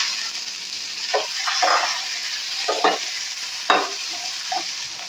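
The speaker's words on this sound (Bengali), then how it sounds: "লঙ্কা আর পাঁচফোড়নটা যখন একটু সুন্দর গন্ধ বেরোতে থাকবে তখন এর মধ্যে কুলগুলোকে দিয়ে দেবো" Jujube berries fry in a pan with dried chili and panch phoron, a soft, steady sizzle broken by several brief stirring scrapes, close and fairly quiet with no voices.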